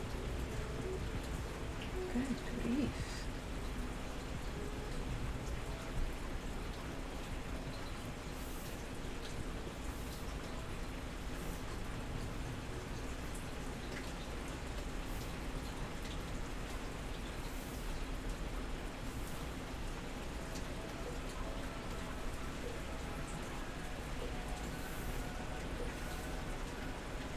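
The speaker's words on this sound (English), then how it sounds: "can you guys hear that rain pouring down?" Heavy rain pours down steadily outside a home, a dense continuous hiss of drops on surfaces throughout, with a faint distant rumble and a brief spoken exclamation early on.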